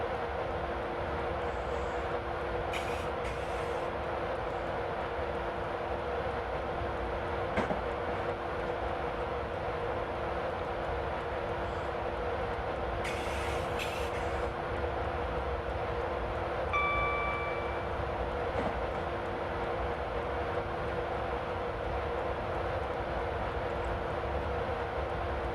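Intercity Class 91 electric locomotive accelerating on the West Coast Main Line in the Train Simulator 2016 game, a steady low rumbling drone with constant traction hum and occasional faint clicks and chimes throughout.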